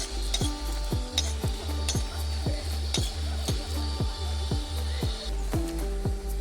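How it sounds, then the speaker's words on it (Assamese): Green chillies fry in a pan alongside ginger and onion for a pork-with-sesame dish, stirred in a steady rhythm of scraping strokes over a constant sizzle and low hum. "আমাৰ জলকীয়াটো ভাজা হৈ গ'ল।"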